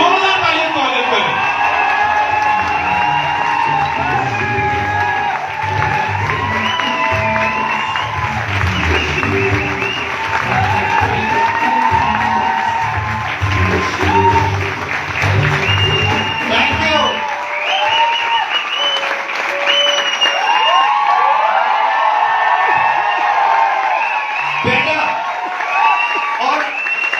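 A seminar crowd in Amritsar claps and cheers hard to welcome Vestige director Deepak Sood, a long, loud wall of applause and shouts that eases briefly partway through and then swells again.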